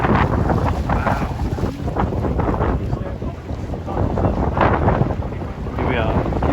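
A strong gust buffets over open water at Rutland Water, a steady loud roar of wind and splashing around small sailing boats, with a voice talking faintly beneath.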